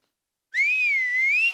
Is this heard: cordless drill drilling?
no